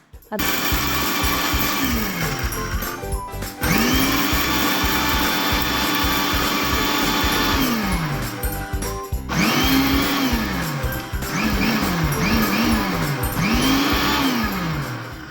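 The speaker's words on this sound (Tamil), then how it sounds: "நைஸாக அரைச்சி எடுத்து வச்சுக்கலாம்." A mixer grinder whirs loudly as it grinds soaked toor dal for sambar, running in long steady bursts with brief pauses between them and pitch swoops as the motor speeds up and slows down.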